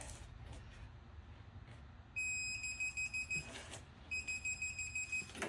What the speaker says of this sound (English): all we have to do is just pull it until we get the buzzer